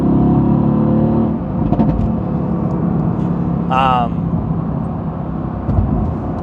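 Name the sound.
truck driving on the road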